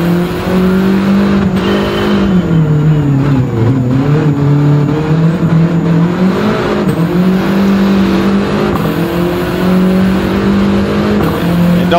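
Racing video game car engine revving steadily and loudly throughout, its pitch rising and dipping with acceleration, heard from an in-car view with no talking.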